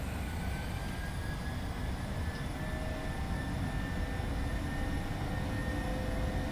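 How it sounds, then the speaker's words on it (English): A PMDG 737-700 airliner's jet engines in Microsoft Flight Simulator run at takeoff thrust, a steady, loud, broadband roar that holds even throughout with no pauses and no voices. "Takeoff thrust set."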